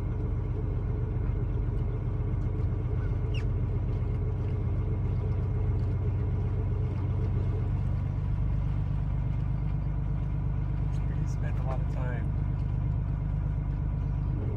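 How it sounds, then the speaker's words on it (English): A boat engine idles while leaving a harbor early in the morning, a steady low rumble running throughout at moderate level, with a person talking briefly over it. "just idling around getting out of the harbor."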